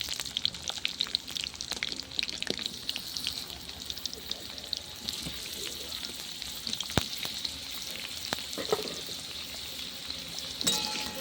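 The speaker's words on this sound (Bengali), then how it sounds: "আলুগুলো একটু ভেজে নেবো" Potatoes fry in a pan on a clay stove, a steady close sizzle with scattered crackles and occasional stirring scrapes running through the whole stretch.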